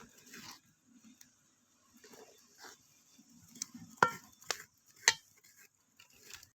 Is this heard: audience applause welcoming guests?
no